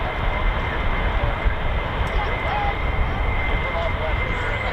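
F-35 fighter jets on ILS approach to runway 05 at RAF Lakenheath give a steady, broad engine roar that holds at an even level throughout, with no talk over it.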